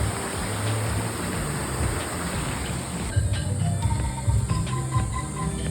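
A mountain stream flows in front of a restaurant in a forest park near Ha Long Bay, Vietnam, giving a loud, steady broadband rush of water close by with no voices.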